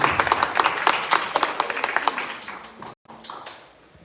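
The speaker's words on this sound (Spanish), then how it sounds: "Denle el aplauso al Señor." Steady clapping from a church congregation during a sermon, a quick rhythmic patter of many hands that briefly drops out, then resumes more softly.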